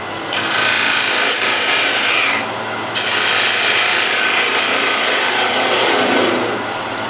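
A hand scraper cuts across wood side grain in long, loud rasping strokes, with a short break near the middle before scraping resumes steadily.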